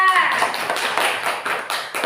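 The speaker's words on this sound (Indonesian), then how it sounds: "beri tepuk tangan untuk kelompok 3" Students in a classroom clap briefly for group 3, a short burst of scattered hand claps close by.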